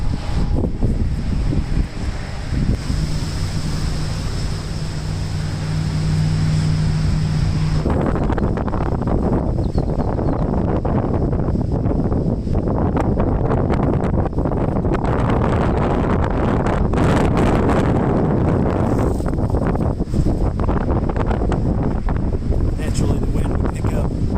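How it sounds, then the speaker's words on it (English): Strong wind roars and buffets continuously across an open golf course by a par-3 18th hole, loud, broadband gusts filling the whole stretch, with a brief tonal hum early on. "I started feeling sustained winds of about 10 to 15 miles an hour with gusts about 25 to 30"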